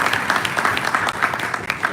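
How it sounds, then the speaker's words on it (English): Audience applause at a bank's succession planning breakfast: steady, dense clapping from a room of people throughout, loud and close, with a brief dip near the end. "I think we need to clap for OHT."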